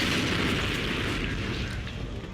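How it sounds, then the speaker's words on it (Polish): A big explosion in the video game Damnation lets out a loud, dense rumbling roar that fills the whole moment and slowly tapers off, with no voices over it. "Lubię wybuchy."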